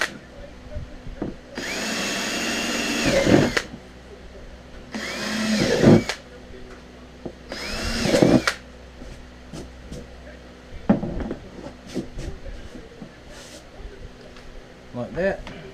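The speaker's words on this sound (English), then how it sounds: "I'm just going to drill a couple of holes around the edges." A power drill bores holes around the edges on the inside of a cooler lid, with three loud whirring bursts of a few seconds each, separated by quieter handling noises and small clicks close by.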